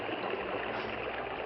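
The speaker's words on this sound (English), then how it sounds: "Boulder Creek was a raging torrent." A raging creek torrent rushes in a steady, dense wash of water noise, close and unbroken with no voices.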